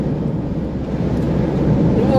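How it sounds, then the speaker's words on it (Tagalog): Loud, steady wind rush and rumble while riding a vehicle on a delivery run in Talisay, Batangas, a continuous roaring buffet that drowns out the engine throughout. "Yung naririnig ko, yung ingay ng hangin."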